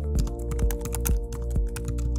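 Fingers type on a computer keyboard in an office setting, a quick, irregular run of close, crisp key clicks and taps over a steady low hum, with no voices.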